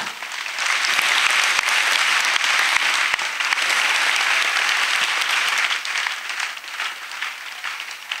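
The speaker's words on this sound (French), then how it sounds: "Oui, acclamez, acclamez." Church congregation applauding together, a dense sustained roar of clapping that holds steady for several seconds before thinning out toward the end.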